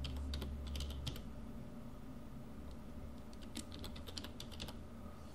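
Quick, steady clicking of fingers typing a short phrase on a computer keyboard to send characters to an FPGA CPU over a serial port, close and clear with a low hum beneath.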